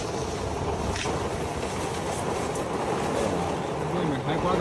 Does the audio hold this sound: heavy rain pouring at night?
yes